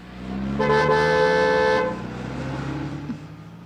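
A car horn gives a single loud, sustained honk lasting just over a second. Road and engine noise follow it.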